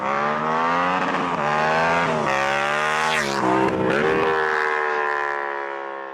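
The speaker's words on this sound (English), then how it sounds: "it has an engine that sounds something like this" Yamaha R7 689cc parallel twin engine revving loud and close, a steady harmonic drone that rises and falls in pitch through repeated throttle swells before easing off, with no voices.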